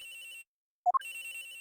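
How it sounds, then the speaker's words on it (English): A cell phone rings in the Ace Attorney Investigations game: a steady electronic trill, a short gap of silence, two rising blips, then the ringing resumes, clear and close with no voices. "Agent Hicks' phone! It's ringing from somewhere"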